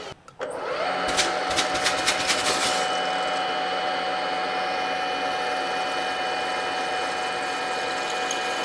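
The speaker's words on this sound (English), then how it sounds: "a diamond hone with some oil, and it'll give us a proper finish" Continuous high-pitched whir of a power-driven diamond hone working oiled valve guides in a 283 Chevy Power Pack cylinder head, close and steady, opening with a few sharp metallic clicks before settling into a sustained whine.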